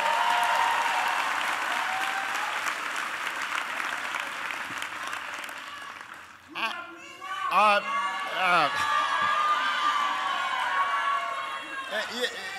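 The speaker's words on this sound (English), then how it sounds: "Can everybody please give Kinsey a big round of applause for the great introduction?" A crowd at a political speech in Austin, Texas applauds loudly and steadily for Kinsey's introduction, the clapping filling the first half before a voice begins speaking over fading applause.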